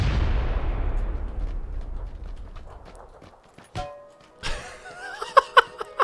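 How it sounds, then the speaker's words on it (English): A grenade going off in the PUBG battle royale game: a loud, broad boom that opens the clip and slowly rumbles away over several seconds, followed by a few sharp clicks and thumps near the end. "I'm going to throw this nade, and then when it blows up, we'll let the games begin."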